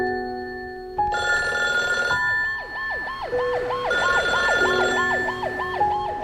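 A telephone rings in an emergency call service advertisement, a loud repeated electronic ring joined by rising and falling siren-like sweeps, with no talking.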